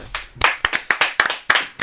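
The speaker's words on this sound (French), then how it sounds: "on applaudit la blague nul" A few people clap slowly and unevenly for a bad joke, about seven distinct close hand claps spaced roughly a quarter second apart, with no talking.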